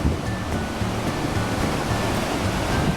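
Sea waves at Las Palmas, Gran Canaria roll in as a continuous broad roar of surf, steady and fairly loud, mixed with some wind, with no voices.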